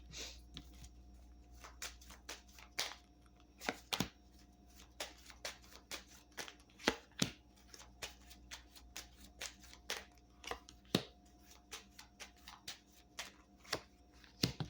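Tarot and Kipper cards are shuffled by hand, giving a run of soft, close riffling flicks and taps at an irregular pace over a quiet room.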